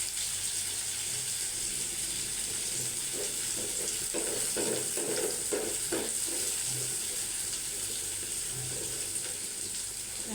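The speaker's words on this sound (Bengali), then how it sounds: "হালকা একটু ভেজে নিচ্ছি" Puti fish with tomato being lightly fried in a pan over low heat, a steady soft sizzle with occasional stirring scrapes in the middle, no voices.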